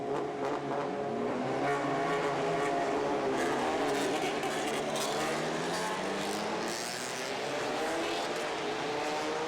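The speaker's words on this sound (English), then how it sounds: "Stefano Camini leads the cars around then." Race cars on a warm-up lap make dense, continuous engine roar with overlapping revving tones rising and falling as several cars pass, loud and sustained throughout.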